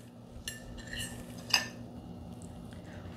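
Mashed banana spooned from one small bowl into another, giving a few light clinks and scrapes of a spoon against the bowl, one brighter clink standing out, close and quiet.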